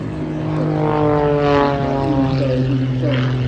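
A propeller warbird dating from 1944 drones past at an airshow, its loud engine holding a steady buzzing note that swells and then eases as it flies by.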